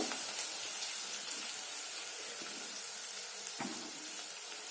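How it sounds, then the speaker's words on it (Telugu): Garlic paste sizzling steadily in a hot pan, a constant bright hiss with faint pops and crackles throughout, close and even in level. "వెల్లుల్లిపాయ ముద్ద కూడా వేస్తున్నాను చిటిపట అన్నాయి"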